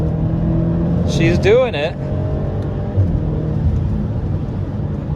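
A BMW X5M launches hard in M mode from first gear, its engine note sweeping upward in a quick surge of acceleration before settling into a steady cabin rumble, with people talking over it.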